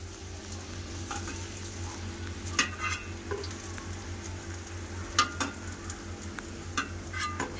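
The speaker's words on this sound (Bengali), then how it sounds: "বেশি তেজ আছে ভাজা চলবে না, ধিমা আছে। আর এই আস্তে আস্তে করে ভাজতে হবে, এপাশ পাশ" Potato pakoras frying slowly in oil over low heat, a gentle steady bubbling hiss with occasional sharp clicks and scrapes as pieces are turned over.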